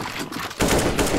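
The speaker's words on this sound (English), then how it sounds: "Keep shooting now." Gunfire in a CSGO zombie escape game, a dense, loud sustained burst of rapid automatic shots kicking in abruptly after a brief lower-level stretch.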